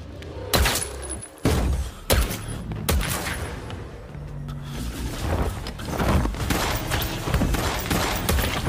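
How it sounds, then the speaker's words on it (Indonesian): Gunfire from an action film scene: several sharp, loud shots crack out early on, then a denser, rougher barrage of firing and impacts builds over the second half, with no talk. "para anak buah Khadkar pun langsung menerobos masuk dan menembaki mereka berdua."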